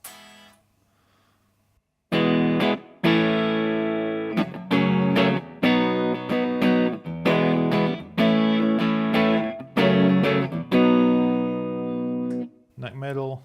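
Ibanez JS100 electric guitar on a clean tone with the neck single-coil pickup, playing a series of plucked notes and chords in a steady rhythm after a short quiet start, close and fairly loud with ringing sustain.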